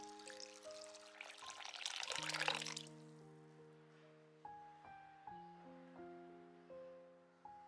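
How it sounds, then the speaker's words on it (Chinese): Salted, refrigerated dried anchovies are rinsed in clean water, sloshing and splashing briefly at the start. A soft melody of plucked notes then carries on alone. "再用清水多清洗几遍，去掉鱼身上多余的盐分"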